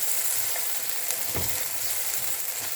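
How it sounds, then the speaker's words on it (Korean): Potatoes stir-fry in a pan with sesame or perilla oil, giving a steady, close sizzle throughout, with one brief stirring knock in the middle. "그래서 이렇게 익을 때까지 볶다가"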